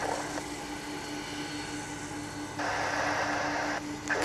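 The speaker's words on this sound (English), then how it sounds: "here comes our second tri-jet of the morning." A UPS tri-jet airliner about 31 years old, taxiing or passing at DFW International Airport, a steady broad jet engine roar with a hum, swelling louder toward the end, heard from a distance with no voices.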